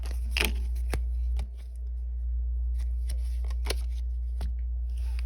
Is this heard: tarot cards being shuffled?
yes